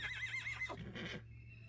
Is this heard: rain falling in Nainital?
no